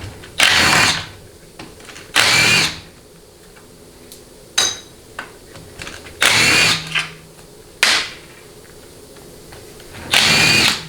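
A power tool with a 13mm socket whirs in short bursts, roughly five, while pan bolts come off a grimy 4L60E transmission, with clicks and small clanks of loosened hardware in the pauses between.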